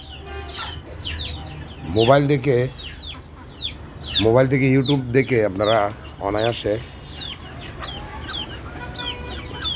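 Native desi chickens kept indoors, clucking repeatedly in short bursts close by, with someone talking over them for much of the time.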